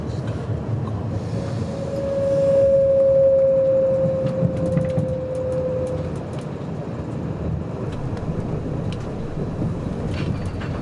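Steady, loud rumble inside a full London-bound passenger train running from Preston via Birmingham, heard from a window seat, with a brief high whine rising above the continuous rolling noise.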